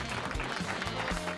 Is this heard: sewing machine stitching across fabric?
no